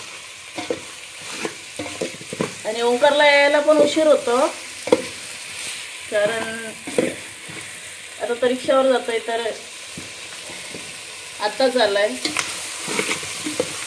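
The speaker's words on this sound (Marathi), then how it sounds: "हे असं तेलात भाजून घेऊया आधी व्यवस्थित." Spices fry in oil in a pan with a steady soft sizzle in the background while a person talks over it in a home kitchen.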